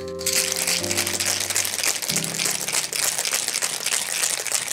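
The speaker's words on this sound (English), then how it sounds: "Fill the shaker with ice. And shake it vigorously" Ice rattles and crunches continuously in a cocktail shaker shaken vigorously, a dense close clatter over a sustained musical backing.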